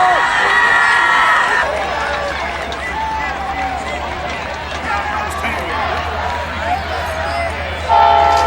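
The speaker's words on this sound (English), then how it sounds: "Oh, I hear that train" A train horn sounds in the distance beneath a noisy Allen Park student crowd and chatter, with a low steady rumble running through most of the clip.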